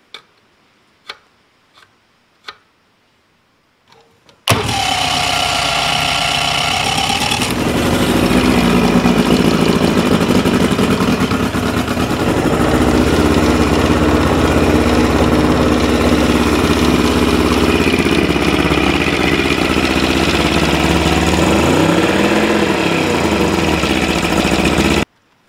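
A boat outboard engine with a choke that will not engage, heard first as a few sharp clicks and ticks, then starting up and running with a loud, steady idling drone.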